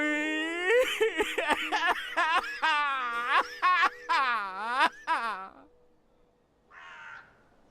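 Cawing of a crow-like bird in the video game Dreamfall Chapters, several harsh, rising calls overlapping with speech and a moaning voice in the first five seconds, then a fainter caw near the end.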